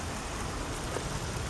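Steady rain falling during a thunderstorm at night, with a car's headlights on, heard as a constant dense hiss with no clear thunder, fairly faint.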